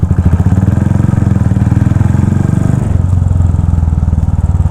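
Custom KGF-style motorcycle with a loud, slapping exhaust, a deep rapid pulsing idle close by that drops to a lower, steadier rumble partway through.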